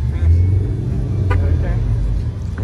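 A Ford Mustang at a car meet rumbles with a deep, steady engine note held close to the microphone, and the low growl keeps going under the crowd noise for the whole stretch.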